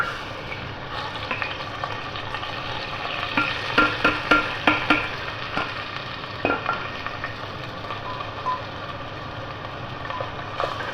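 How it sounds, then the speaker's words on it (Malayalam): Rice stirred into melted ghee in a pan: a steady sizzle runs throughout, broken by a cluster of sharp scraping clicks from the spoon midway and a few more near the end. "എന്നിട്ട് നമുക്ക് നല്ല ഭംഗിയായിട്ട് ഇയാളെ നമുക്കൊന്ന് ഇളക്കി കൊടുക്കാം"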